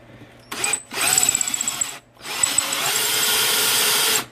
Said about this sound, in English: drill straight through, almost all, basically to the top